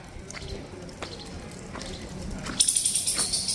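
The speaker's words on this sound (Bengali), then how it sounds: "উপর থেকে জল পড়ছে, দেখেছেন" Water drips from the rock ceiling inside Cave 14 at Ellora, heard as a hollow ambience followed by a run of regular, splashy drops that land close by near the end.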